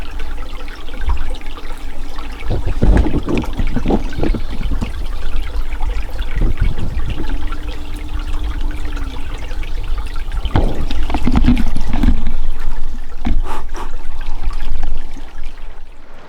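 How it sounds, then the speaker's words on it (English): Water gurgles and splashes nearby as someone wades into a creek, a steady flowing wash with irregular sloshing surges and a few louder splashes, no talking. "So we're gonna get in this creek."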